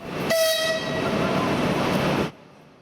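A train pulls into Belorussky station in Moscow after a long journey from Berlin, its loud rumbling roar filling the space while a brief horn-like tone sounds near the start before the noise cuts off abruptly.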